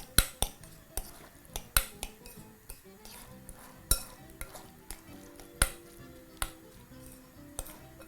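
Seasoning is mixed in a bowl for fish and chips batter, giving quiet repeated clinks and taps of a utensil against the bowl in an uneven stirring rhythm, heard close up with no talk.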